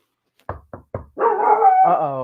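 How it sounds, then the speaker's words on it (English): Three sharp knocks are followed by a dog close by letting out a long, drawn-out bark that rises into a howl. "I just woke up my dog"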